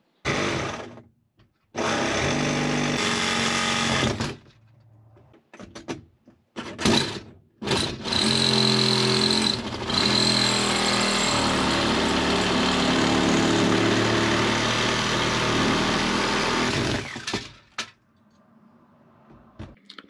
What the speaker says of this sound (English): I can get my sawzall in there and do this properly